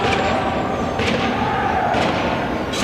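Iona Prep hockey fans at a CHSAA championship game chant and bang sticks, with loud crowd noise and repeated sharp thuds about once a second under steady rink ambience.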